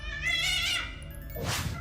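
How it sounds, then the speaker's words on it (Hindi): A black cat meows twice, a drawn-out tonal cry followed by a shorter, breathier one, close and fairly loud indoors in a dark house hallway. "न जाने कहां से एक काली बिल्ली ने आकर उनके ऊपर छलांग लगा दी।"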